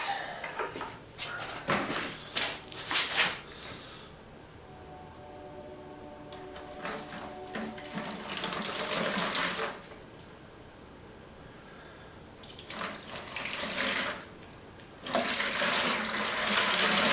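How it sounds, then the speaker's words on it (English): Bursts of splashing water poured from a bucket onto car headlights pour out in several separate dumps, loud and close, with quieter dripping and trickling in the pauses between them. "So I'm just going to dump water on them."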